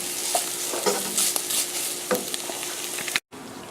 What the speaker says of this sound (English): Get it all stirred up in there really good.